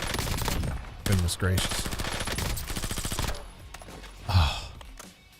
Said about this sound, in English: insanely loud, is this stuff. The gunshots, the explosions.